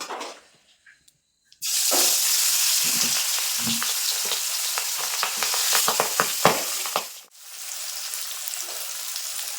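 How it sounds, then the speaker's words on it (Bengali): Pieces of pangas fish dropped into hot oil after a quiet start, then a loud, dense sizzle with scattered pops and a short dip before the frying hiss resumes, no speech. "এপাশে মাছগুলো ভাজা হতে থাকার"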